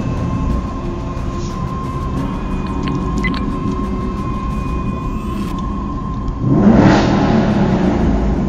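A 2016 Mustang GT and a 2005 Cadillac CTS-V race, their engines making a loud, steady rumbling roar that swells sharply near the end as a car passes close.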